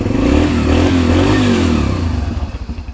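A Yamaha TTR 125 four-stroke dirt bike engine, used as a learner bike, fires up and revs with a loud, close, steady rumble, then settles into a choppier idle.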